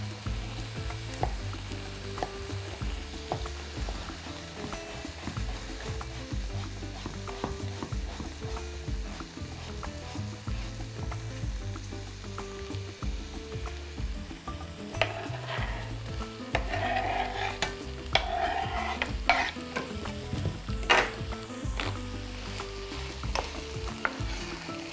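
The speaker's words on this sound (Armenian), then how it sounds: "կտրատում և լցնում ենք տապակվող բաղադրիչների վրա" Diced potatoes fry in a pan with other ingredients for a broccoli purée, giving a soft, continuous sizzle punctuated by scattered clicks and scrapes of stirring, with no talking.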